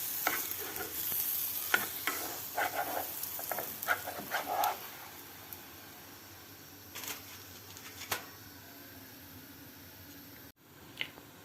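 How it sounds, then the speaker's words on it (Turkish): Food sizzles and crackles softly in oil in a pan, with stirring and light clinks in the first few seconds before the frying settles into a quieter steady hiss. "Bunlar da gayet güzel kızarıyor yani hiç problem değil."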